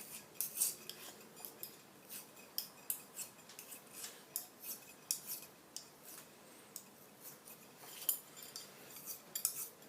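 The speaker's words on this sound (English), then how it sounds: "Before we do, we'll just check it with a file." A file rasps in repeated short strokes across a hardened steel arbor for R8 tooling, being tested for hardness before tempering; quick, irregular scraping close by, fairly faint, with no talk.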